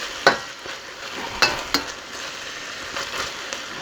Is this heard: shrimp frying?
yes